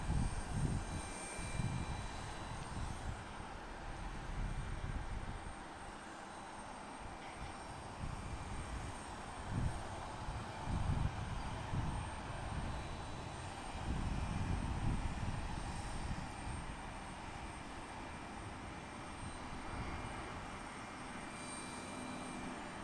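An Allegiant airliner arriving at Portland International Airport, its jet engines giving a loud, sustained roar that swells and fades over about twenty seconds with no talking.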